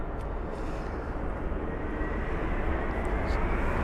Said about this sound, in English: you look right, you've got an aircraft departing. You look left, you've got one spooling up.